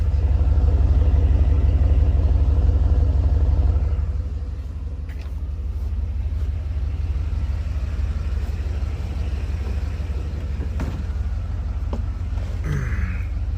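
A cammed Chevrolet Tahoe V8 with no tune runs right after its first start, a loud, choppy low rumble that eases slightly after a few seconds and keeps loping steadily nearby.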